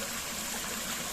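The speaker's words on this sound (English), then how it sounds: "just watching the water running down from" Spring water at the source of the River Sheppey, running down into a stream, gives a steady, close rush and trickle with no voices.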